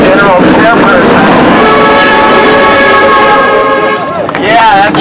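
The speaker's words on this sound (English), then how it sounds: "We've been getting honks all day." Loud, sustained vehicle horn blasts honk at a union picket line, with overlapping steady tones over a noisy outdoor background and voices.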